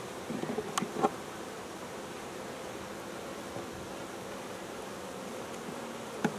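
Honey bees buzz around a hive frame in cold weather, a soft, steady drone with a few faint clicks and bumps, close but quiet.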